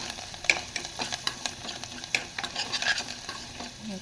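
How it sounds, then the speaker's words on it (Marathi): Fresh coriander stirred into a hot tempering in a pan crackles and sizzles softly, with irregular scraping taps of the spoon against the pan and no talking. "फोडणीवरती मी कोथिंबीर टाकून घेतली आहे."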